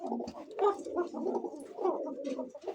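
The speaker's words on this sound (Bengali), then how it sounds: "সাউন্ডটা কি কবুতরের ভাই" Pigeons coo in a low, throaty, repeated rolling murmur, several overlapping calls close by with no talking.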